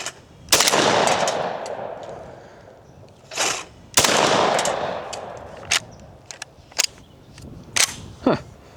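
Savage 775 semi-automatic shotgun firing heavy loads outdoors: loud single blasts with echoing tails, spaced apart, then several quicker sharp bangs and metallic clicks.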